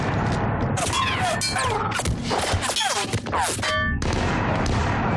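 Video game gunfire in Mass Effect 3 during a chaotic firefight, loud bursts of shots mixed with sweeping whooshes, crashes and battle noise, dense and close throughout.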